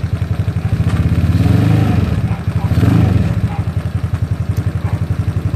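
ZNEN ZN150T-9 SSR Interceptor 150 scooter engine revving up twice from a chugging idle, a loud close single-cylinder pulse that swells and settles, with no talking.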